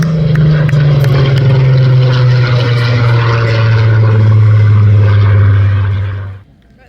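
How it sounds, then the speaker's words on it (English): A Spitfire fighter sweeps past at an air festival display, its propeller engine droning loud and steady with a sustained low roar that holds for about six seconds before falling away sharply. "as he brings the aircraft through one final time for us"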